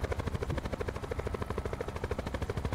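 Helicopter in Call of Duty Blackout, a steady, loud rotor chop with a pulsing rhythm across the whole stretch, with no talk over it.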